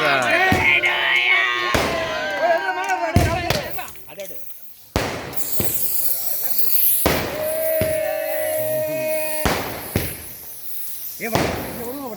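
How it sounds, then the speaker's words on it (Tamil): Several sharp, loud sky rocket firework bangs burst out at irregular intervals, with voices talking and shouting between the blasts. "வான வெடி"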